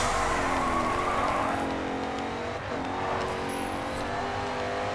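Racing car drifting in GRID 2, its engine holding a high strained whine with shifting pitch and tyre skid noise, loud and continuous, dipping briefly midway before surging again.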